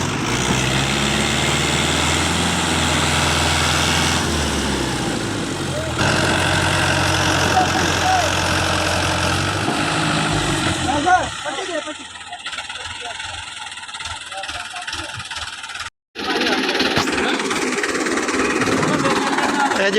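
An old Suzuki Vitara's engine runs steadily and loudly while it pulls a stuck tractor, a continuous low drone that shifts partway through, with people talking over it.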